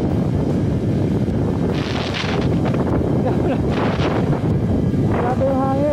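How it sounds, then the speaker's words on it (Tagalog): Heavy wind roars across the microphone on a motorcycle ride from Las Piñas to Baler, loud and continuous low rumble with gusting swells, a voice faintly audible beneath it. "Grabe yung hangin, no?"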